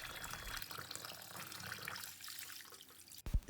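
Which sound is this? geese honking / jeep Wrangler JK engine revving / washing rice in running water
washing rice in running water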